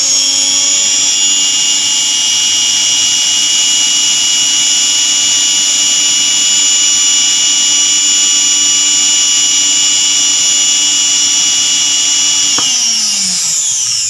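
A rewound armature electric motor runs at a steady high-pitched whine, loud and close for about twelve seconds, then is switched off and winds down with a falling tone.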